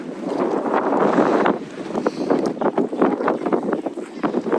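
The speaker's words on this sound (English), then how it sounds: "Oh, this wind is crazy." Strong wind on the Shetland Islands in Scotland, loud buffeting gusts blasting against the microphone in an unsteady, pulsing roar, with a voice faintly under it.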